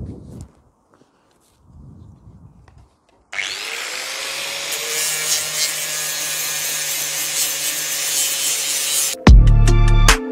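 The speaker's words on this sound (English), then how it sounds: "I'm just going to take the paint off the bracket with this sanding pad just to get it back to bare metal." A sanding pad strips paint off a clamped metal bracket down to bare metal, a loud steady whirring grind that starts abruptly after a few seconds of quiet rustling and runs continuously, ending with a few sharp clunks.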